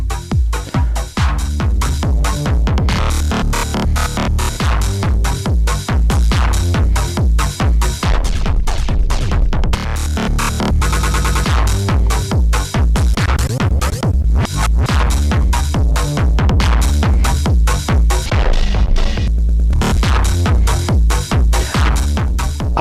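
Roland MC-101 groovebox playing a rhythmic pattern run through its scatter performance effect, with dense stuttering chopped beats, sudden cuts and repeated slices, loud and continuous throughout with no talking.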